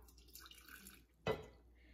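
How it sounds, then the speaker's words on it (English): Brine splashes into the bottom of a quart jar in one short, sharp burst after a near-silent pause, close and quiet. "I'm gonna pour in a little bit of the brine just at the bottom"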